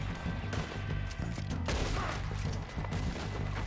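Video game gunfire in Red Dead Redemption 2 crackles in rapid bursts of overlapping shots over about four seconds, moderately loud and with no speech.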